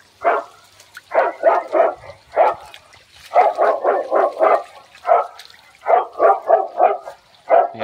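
A dog bark recording plays through a loudspeaker in a maize field in quick clusters of three to five barks, separated by short pauses, loud and slightly thin-sounding.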